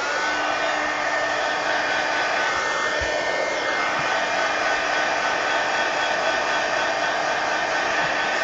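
A hair dryer blows on wet adult coloring pages, a loud, constant broadband rush held steadily from start to finish, close by with no voices.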